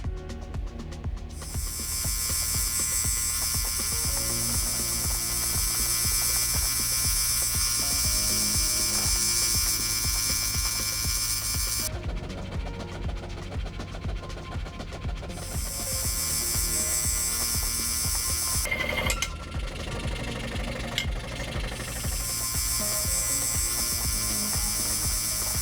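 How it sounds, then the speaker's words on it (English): Scroll saw cutting sundial-calendar wheel blanks free from the parent stock: a steady, loud mechanical buzz with dense rapid chatter, running continuously with brief pauses and shifts in pitch as the blade works through the material. "then it's onto the scroll saw to separate them from the parent stock"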